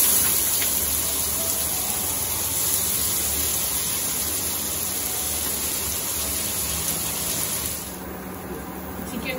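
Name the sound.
heavy rain falling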